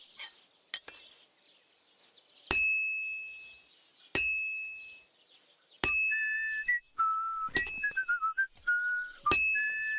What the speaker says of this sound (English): that whistling kind of killing me